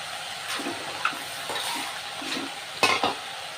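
Amaranth leaves cooking with salt and turmeric in a pan, a light steady sizzle broken by stirring scrapes and a couple of sharper clatters.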